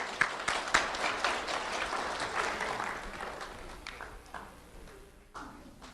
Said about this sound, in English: Let's have a round of applause for Alexandria Florkey.